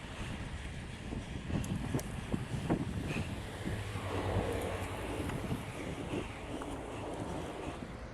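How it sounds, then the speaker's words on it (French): Strong headwind blowing across the side during a summer bicycle ride in Montpellier, heard as continuous rough wind buffeting on the microphone with steady low rumble throughout, no speech. "il y a un bon vent de face de côté, très très sympathique"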